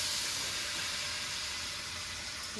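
Spice paste frying with potatoes in a pan after a little water is added, while cooking fish curry: a loud, continuous, steady sizzle and hiss close up.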